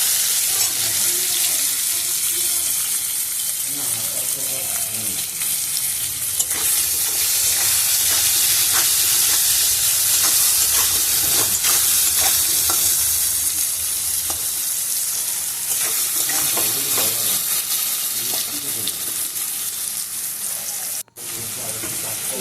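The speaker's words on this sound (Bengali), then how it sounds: "অল্প নুন আর অল্প একটু হলুদ দিয়ে আলুগুলোকেও ভেজে নিতে হবে।" Potatoes with salt and turmeric fry in a wok for a Bengali fish recipe, giving a loud, steady sizzle that runs throughout, with occasional stirring scrapes and no talk.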